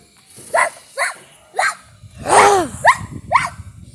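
A dog gives six short barks or yips, spaced roughly half a second apart, close and fairly loud, with a longer whining, rumbling call in the middle.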